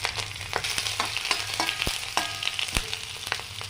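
Garlic, ginger, green chili and curry leaves fry in hot oil for a soya chunk roast: a steady close sizzle broken by sharp scraping stirs, with no voices.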